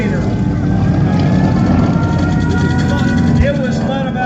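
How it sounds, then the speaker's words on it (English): A Mitsubishi A6M Zero flies at an air show reenactment of Pearl Harbor, its steady propeller engine drone loud and continuous while a commentator talks over it. "The Mitsubishi A6N0, one of the fastest airplanes in the Pacific Theater."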